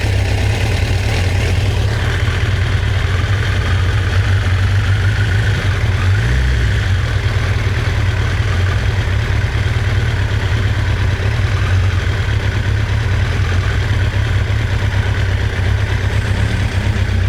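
A cheap motorcycle engine idles steadily, loud and close, with a low even throb that swells briefly as the idle is raised.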